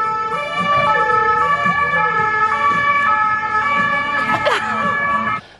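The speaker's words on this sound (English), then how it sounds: "don't you always hear ambulance and police?" Wailing emergency sirens sweep up and down loudly on a street, an ambulance and police vehicle passing close by with rising and falling tones over road traffic noise.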